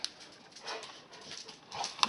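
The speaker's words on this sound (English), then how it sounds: "can probably hear my dogs getting excited in the background." Dogs whimper and yip faintly in the background, a few short excited cries scattered over quiet room noise.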